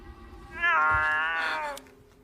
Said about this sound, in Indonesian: Mendengar suara kucing dari telepon